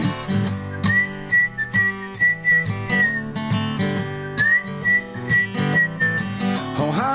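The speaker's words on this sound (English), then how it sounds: "But he could whistle real good." A man whistles a melodic tune in clear sustained notes over steady backing music, the whistled line rising and falling in short phrases throughout.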